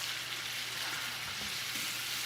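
Food for a shepherd's pie fries in a pan, a constant close hiss and crackle of sizzling with faint stirring scrapes and no pauses.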